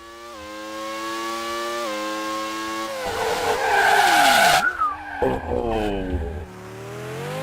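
Formula 1 cars in the Grand Prix 2 racing video game, with a steady rising and falling engine whine, then a loud tire screech and skid as a car brakes hard, before engines rev again, and a brief spoken exclamation.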